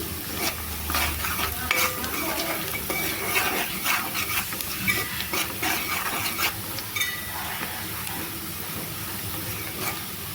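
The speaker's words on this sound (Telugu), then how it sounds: "పసుపు వేసుకొని ఒకసారి కలిపేసుకుందాం." Onions fry with turmeric for a country chicken curry as a spoon mixes them in the pan. There are close repeated scrapes and knocks over a loud, hissing sizzle, with no voices.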